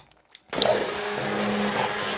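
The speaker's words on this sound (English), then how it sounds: "we're going to use our immersible blender, and we're just going to blend this sauce" Near silence gives way to a loud, steady whir as an immersion blender starts purees a red wine braised short rib sauce, and the motor drones on without a break.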